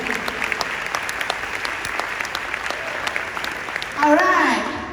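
Steady applause from an audience at an Amway marketing event fills the room for about four seconds, dense and sustained, with a voice rising over the clapping near the end.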